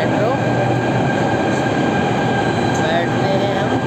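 A Delhi Metro train pulls into Shaheed Sthal station with a steady, loud rolling rumble and faint high screeches, heard close from the platform.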